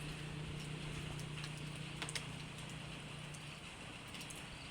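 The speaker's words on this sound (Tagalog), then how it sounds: "Umuulan-ulan." Steady soft rain falls continuously, a gentle even hiss with a few faint drips standing out, no voices.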